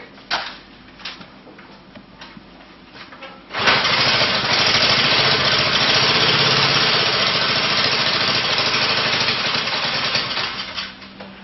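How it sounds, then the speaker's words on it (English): An early experimental rotary spool valve engine is quiet at first, then catches abruptly and runs loud and close with a dense, steady, rattling roar that holds to the end and eases only slightly at the close. "This is a rotary valve engine."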